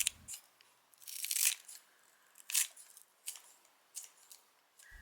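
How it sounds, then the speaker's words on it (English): Spring onions are snipped with scissors in several crisp, separate cuts spaced about a second apart, close and fairly quiet in an otherwise silent room. "To add a hint of freshness, let's cut up some spring onions."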